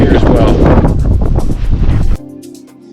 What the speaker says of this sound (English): It's very, very windy here as well.